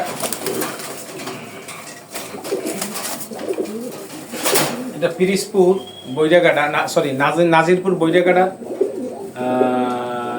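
Pigeons coo repeatedly in throaty, rolling calls close by, heard alongside someone talking.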